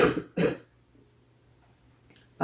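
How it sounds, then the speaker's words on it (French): Two short, close coughs in quick succession, then near silence before another brief cough-like burst at the end. "Je vais tousser."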